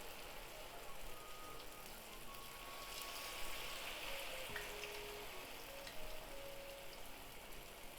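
Okra and chikuwa fishcake pieces in tempura batter frying in oil, a soft continuous bubbling sizzle with fine crackles, steady and fairly quiet, heard close with no talking.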